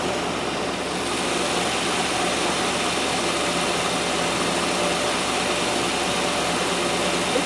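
1997 Land Rover Discovery 1 engine running at a steady idle, a continuous close mechanical drone with even vibration throughout and no talk.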